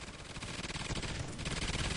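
Rapid automatic gunfire in a Call of Duty Extinction match, a dense, loud stream of shots fired at a propane tank with a near-continuous rattling rhythm, no talking.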